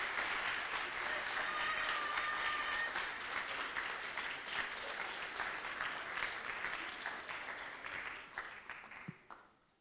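Audience at a cosplay contest during the Swiss Fantasy Show 2018 breaks into steady, dense applause that holds for about eight seconds before tapering off and dying away near the end.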